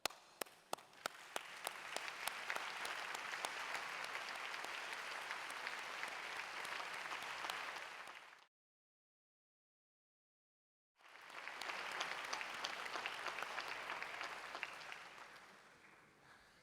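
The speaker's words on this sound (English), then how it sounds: "let's applaud them as well." Audience at a conference session applauding regional country representatives, steady sustained clapping that cuts out briefly to silence, then resumes at similar strength.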